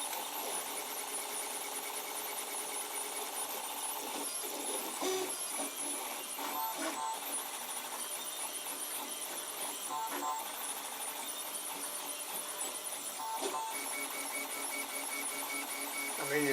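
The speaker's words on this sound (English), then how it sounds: "it seems to be printing very well indeed at the moment" A 3D printer lays down black 1.75 mm PLA, making a steady mechanical whir with small rhythmic stepping chirps and motor buzzes, close and fairly quiet, running on without pause.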